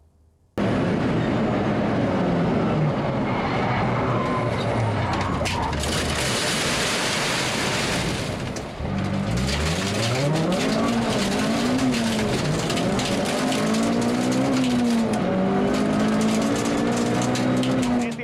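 A Thunder Saloon race car howls loudly and continuously on a circuit for a quick lap, its engine note rising and falling through gear changes and a late corner, with some commentary-like talk mixed under the roar.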